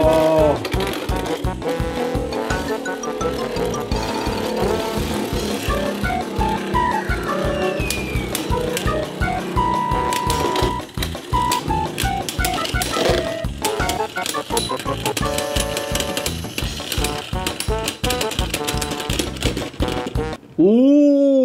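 Beyblade spinning tops clash in a battle stadium, producing a continuous, loud metallic whirring and rapid rattling hits that persist for about twenty seconds before the tops wind down.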